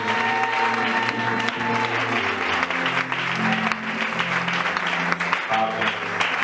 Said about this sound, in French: nous t'offrons une offrande d'acclamation